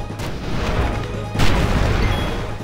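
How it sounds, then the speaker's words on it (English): Cannon blasts from machine enemies in Final Fantasy X land as two heavy, booming crashes in quick succession. They are loud and close, with a rumbling noisy body and no speech. "Jeez, that cannon is really a pain."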